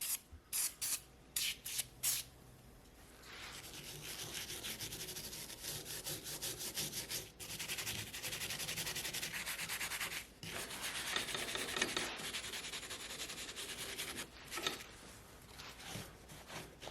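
An old axe head being cleaned and sanded, with sustained rough rubbing and abrasive scraping that runs steadily after a few short strokes at the start, close and fairly loud with no talking.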